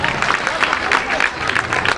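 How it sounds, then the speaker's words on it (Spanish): An audience claps steadily after a performance by a dance school at an Andalusia Day event, dense, loud applause filling the whole stretch without a break. "Este aplauso"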